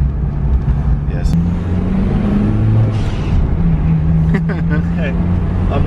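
A Mazda Miata fitted with a DIY turbo setup drones at part throttle while driving, a steady engine hum running beneath continuous conversation inside the car.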